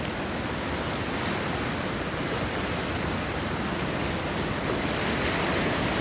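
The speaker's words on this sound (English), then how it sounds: "And just look at the waves coming in." Pacific Ocean waves wash in on a rocky beach north of California, a close, steady surf roar with a soft hiss and some wind buffeting, and no voices over it.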